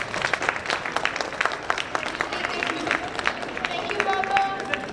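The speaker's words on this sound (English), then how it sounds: "Again, let us applaud them." An audience at a World Meditation Day event in Atlanta applauds, a steady wash of many hands clapping with crowd murmur, moderately loud throughout.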